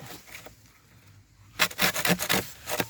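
After a quiet moment, a hand saw rasps through a thick giant bamboo stem in quick, rhythmic back-and-forth strokes, close and loud.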